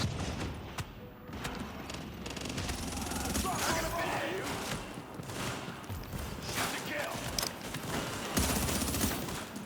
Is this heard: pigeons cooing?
no